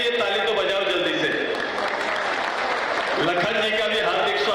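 A crowd at an AJSU party rally in Topchanchi claps steadily in dense, continuous applause, while an amplified voice carries over a loudspeaker throughout.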